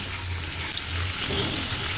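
Chicken pieces fry gently in a small amount of oil, a steady soft sizzle and crackle that runs continuously with no talk over it.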